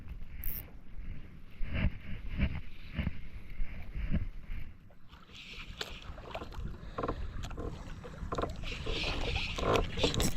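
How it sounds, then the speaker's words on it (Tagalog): A small wooden outrigger fishing boat (bangka) rocks on choppy waves, with water slapping and sloshing against the hull, scattered knocks and creaks, and wind buffeting the microphone throughout. "Bangka."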